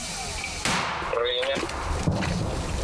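One loud, sharp artillery blast booms outdoors, followed by a rumbling echo, with wind noise and a faint voice around it.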